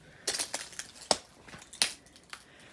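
Footsteps crunch over broken glass inside an abandoned house, a string of sharp, uneven crackles and tinkles that come close together and then more sparsely, with no voices.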